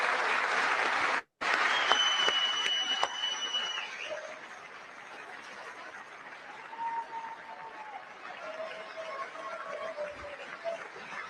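Applause at a State of the Union address, steady clapping from a large chamber audience that starts after a brief cut, then thins and fades toward the end, with faint tones overlaid.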